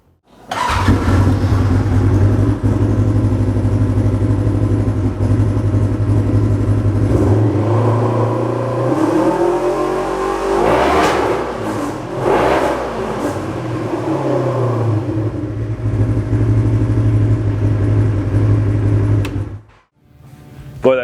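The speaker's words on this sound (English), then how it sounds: "now we're going to fire this thing up and see what it sounds like" Polaris RZR XP1000 engine fitted with an S&S Power Tune XTO muffler, firing up and idling loudly and close with a deep steady drone, revved briefly in the middle before settling back and shutting off near the end.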